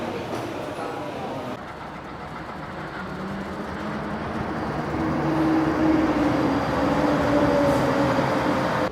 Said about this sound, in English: That goes the monorail